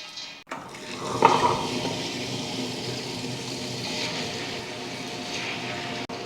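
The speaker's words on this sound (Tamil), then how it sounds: "முதல்ல உளுந்து அரைச்சிருவோம்." Soaked urad dal being ground in a wet grinder for idli batter gives a steady, close, continuous whirring wash that runs almost the whole length with no speech.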